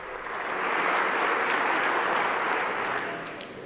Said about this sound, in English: Clap for the loser.